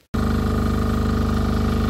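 A MEP 831A diesel generator engine starts abruptly after a moment of near silence, then runs loud and steady with a rapid, even mechanical throb close to the microphone.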